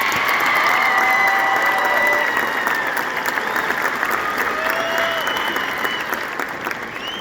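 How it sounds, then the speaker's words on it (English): Sustained applause fills a graduation ceremony hall as a high school graduate of the class of 2025 is honored, steady and loud throughout with scattered crowd voices mixed in. "Give a round of applause to Erica."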